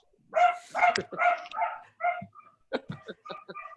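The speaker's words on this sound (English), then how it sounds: "Here come the dogs." Several dogs bark and yip close by in quick bursts, with a brief whimper, loud and clear over an otherwise quiet room.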